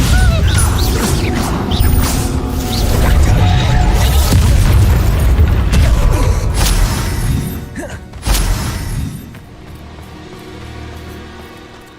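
The Bombarda spell exploding in Hogwarts Legacy: heavy booming blasts with crashing, shattering debris build into a loud, sustained barrage, then one sharp final burst fades to a quiet rumbling tail.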